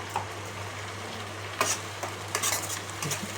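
Aubergine and spices frying in a pan: a steady low sizzle runs throughout, with a few sharp scrapes and clinks of stirring near the end, close and clear, with no talk.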